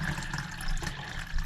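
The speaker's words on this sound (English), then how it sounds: "We'll go ahead and we'll just decant this one into this one" Wild clay slurry being poured from one container into another, a steady wet trickling and splashing that runs continuously at moderate level, close by.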